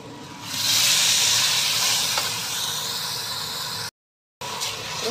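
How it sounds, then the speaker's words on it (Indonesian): Spices sizzling in a hot pan for pork pot rice made with black pepper, a steady bright hiss close up that swells after the first half-second, then breaks off briefly before resuming. "Terus ditumis."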